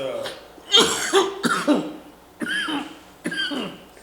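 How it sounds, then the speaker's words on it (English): Several harsh coughs and throat-clearing bursts come in separate clusters, close and fairly loud, with short pauses between them. "It's been a year of you coughing."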